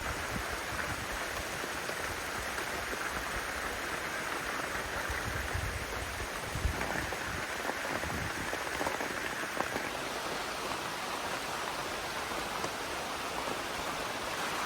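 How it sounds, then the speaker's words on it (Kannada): Steady rain falls on a home during a sudden downpour with strong wind, a dense, even hiss that holds for the whole stretch with no voices. "ಮಳೆ ಹನಿತಾ ಉಂಟು ಮಳೆ ಬಂತು"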